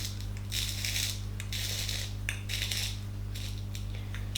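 Bath bomb powder is pressed into a mould with a handled press. Repeated gritty crunching and scraping bursts come in a rough rhythm, close up, over a steady low hum.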